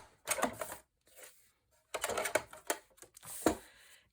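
A paper off-cut is trimmed on a craft paper trimmer to make a card for a Simple Stories box pocket folio. Three close bursts of blade slicing and paper rustling come in quick bouts, separated by brief quiet gaps.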